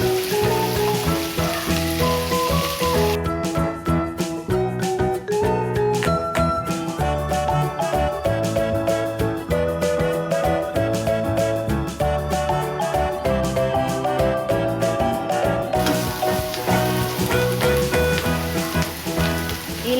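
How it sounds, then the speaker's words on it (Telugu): Chopped cabbage frying in a spiced oil tempering, a steady crackling sizzle that runs the whole time, partly masked by tonal sounds laid over it. "ఇది కూడా పోపులో వేసి ఒక 5 నిమిషాలు ఫ్రై చేసుకోవాలి."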